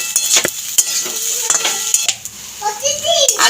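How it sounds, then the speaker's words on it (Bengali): Fried potatoes and prawns are stirred in a pan with a utensil, making close, loud scrapes and clinks in quick bursts over a sizzle. A voice is heard faintly. "নেড়ে চেড়ে একসাথে করে নেবো, মিশিয়ে নেবো।"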